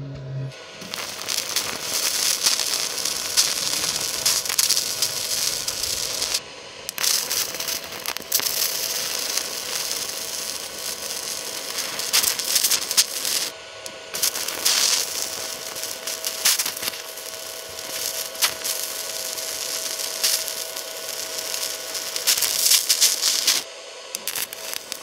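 Lift TIG welding on mild carbon steel with a compact Simder ARC-200S inverter set to about 100 amps, no filler rod, giving a steady crackling, hissing arc that runs continuously with a few brief breaks between beads.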